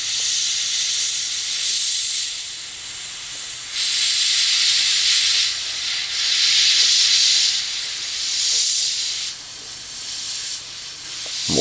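An airbrush sprays paint over a stencil onto a fishing lure, a loud steady hiss that swells and eases in long passes, pausing briefly between strokes, with no talking.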